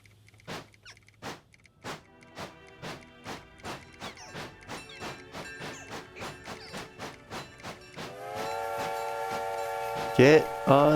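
A train running in a video game chugs in a steady, regular rhythm of clacks that gradually speeds up, then gives way to a loud, sustained whistle-like tone, with people talking over it.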